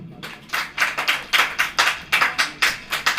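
Congregation clapping at a Hindi church service, a fairly close, loud series of claps in a quick rhythm, falling into short regular bursts of several claps each with brief gaps between them.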